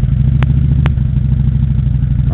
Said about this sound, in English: I'll turn on the bike and see how it sounds